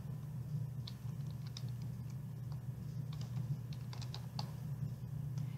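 Quiet, fast tapping on a computer keyboard, irregular clicks over a low steady hum, with no voices.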